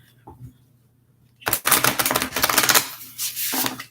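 A new tarot deck is shuffled during a card reading, giving a dense, crisp riffling flutter that starts abruptly and runs for a couple of seconds up close, after a quiet stretch with a low hum.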